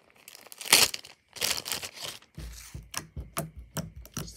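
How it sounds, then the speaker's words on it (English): Plastic bag crinkles and rustles in short bursts as slime is put in it, a few louder scrunches at first, then a quicker series of small crackling handling sounds. "Let's put it in a plastic bag."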